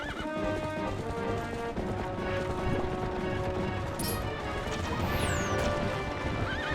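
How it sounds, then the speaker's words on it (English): A horse in The Legend of Zelda: Twilight Princess runs around in circles, its steady clip-clop hoofbeats continuous and close, with whinnies and game sound effects layered over a busy backdrop. "then the horse is gonna run around in a circle"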